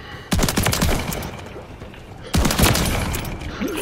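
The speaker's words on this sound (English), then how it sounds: "You're gonna get fucking nuked with this shotgun." Shotgun blasts in Modern Warfare 3 multiplayer on the Highrise map, two loud close booms a couple of seconds apart, each trailing into ringing echo and game noise.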